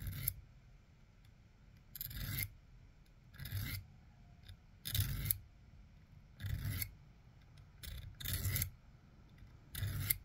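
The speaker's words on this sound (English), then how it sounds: "My little file here. Gonna use the fine edge." Small fine-edged file rasping across the saw teeth of a multi-tool, in repeated bursts of about a second each with brief pauses between, close and clear with no talking.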